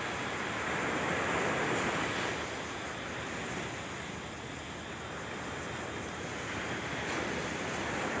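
Sea waves breaking on a beach make a steady, full wash of surf with wind buffeting the microphone, gently swelling and easing with no voices.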